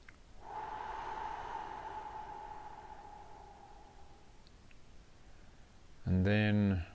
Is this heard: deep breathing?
yes